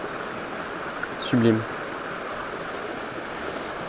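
A small stream flows in a continuous, even rush of water, close and steady, with someone briefly speaking over it.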